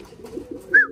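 A pigeon gives a short coo near the end of a brief moment, over a low murmur of background noise.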